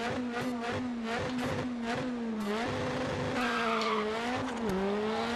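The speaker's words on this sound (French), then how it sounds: "Les bruits des voitures sont juste parfaits." Racing engines roar continuously in the video game Dirt Rally, a Volkswagen Polo revving up and down, with tires squealing through sharp skids; loud, steady and without voices.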